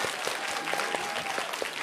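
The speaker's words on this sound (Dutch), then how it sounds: "En dat was een echt applaus, hè?" Audience applause at a Night University lecture event, a steady wash of many hands clapping together, fairly loud and unbroken, with brief faint vocal sounds poking through.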